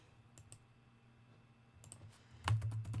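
Computer keys tapped in a few scattered clicks, then a loud burst of rapid, heavy keystrokes near the end as a keyboard is slammed while typing a name, heard close with no talk.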